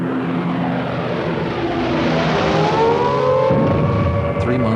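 German bomber planes fly over London during the Blitz, producing a loud, continuous engine drone that swells and shifts pitch as they pass overhead.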